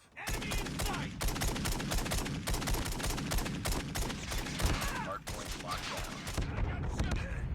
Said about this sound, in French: les armes comme ça où il faut appuyer à chaque fois pour tirer, je suis pas fan